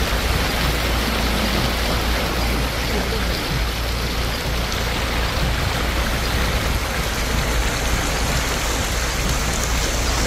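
Heavy rain pours down on the flooded streets of Shkodra, a steady, dense hiss of falling water that holds unbroken and fairly loud throughout, with no voices over it.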